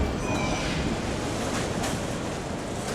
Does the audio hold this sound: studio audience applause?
no